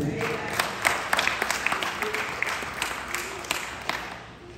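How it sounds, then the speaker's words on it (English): A church congregation claps in a moderate, scattered burst of hand claps that gradually thins and fades, with a faint room murmur underneath. "give the Lord a clap"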